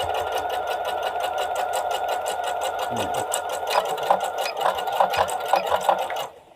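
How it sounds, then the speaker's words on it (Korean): A sewing machine backstitches fabric while making a natural-style tote bag, running as a steady, close, rapid whirring hum with fine ticking of the needle, picking up a rattly pulse in the last few seconds before stopping abruptly. "이거는 대박음질 세 번 정도 해주셔야 됩니다"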